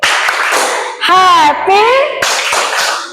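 A group does a rhythmic 'tepuk happy' clapping chant, with bursts of sharp hand claps around a short stretch of sung or called-out voice, loud and close.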